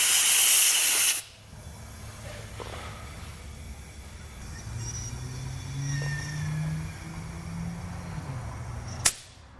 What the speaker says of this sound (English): So now we'll go ahead and put some air into our system.